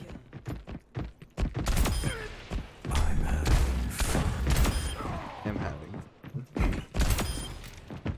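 Shotgun blasts and combat noise from a frantic Overwatch match land in several loud, irregular bursts, mixed with thuds and mechanical clatter.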